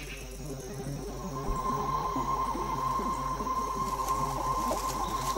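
A cricket chirps in Madagascar, a steady dense trilling buzz running without pause over faint ambient noise, moderately loud and alone.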